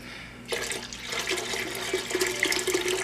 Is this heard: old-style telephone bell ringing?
no